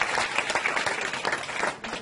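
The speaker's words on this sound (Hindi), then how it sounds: "उसके लिए ताली बजाते हैं" An audience at a sports awards ceremony breaks into dense, steady clapping for players, a crowd of many hands applauding continuously for a couple of seconds.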